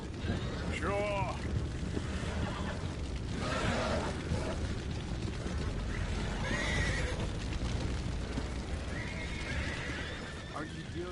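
Several horses whinny and neigh in Red Dead Redemption 2 over a busy game soundscape with hoofbeats, rumbling engine noise and muffled voices underneath.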